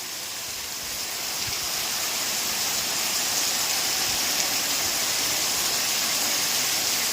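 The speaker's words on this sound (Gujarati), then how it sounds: "જોરદાર વરસાદ ચાલુ થઈ ગયો છે" Heavy rain pours down outdoors, a steady, dense hiss that swells slightly and holds at an even level throughout, with no voices.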